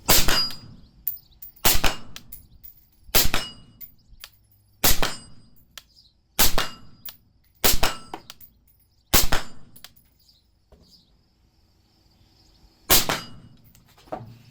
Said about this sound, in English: We just shot 8 rounds out at about 50 yards and easily hit every single one of them on that steel plate